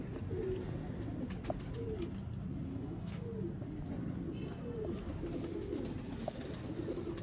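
Pigeons coo softly in repeated low, rolling calls, close by, with light rustling and shuffling in the background.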